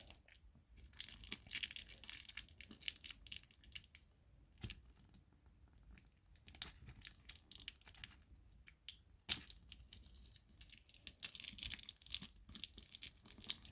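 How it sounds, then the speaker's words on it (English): A Dooney & Bourke handbag being unwrapped from its packaging, with close, quiet bursts of crinkling and tearing wrap and paper that come and go in uneven flurries, without talk. "I am going to fully unwrap it because I want to take a look at everything"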